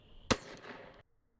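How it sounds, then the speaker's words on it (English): A 37 mm launcher fires an animal control flashbang round: one sharp, loud crack followed by a short ringing burst that dies away within about a second, leaving near silence. "we're going to start out with an ordnance group animal control flashbang round"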